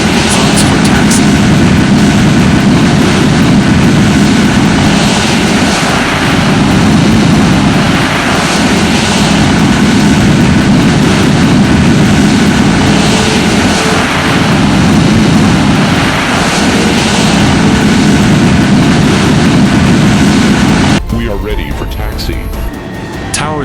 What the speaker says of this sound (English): Ready left engine start. Ready right engine start.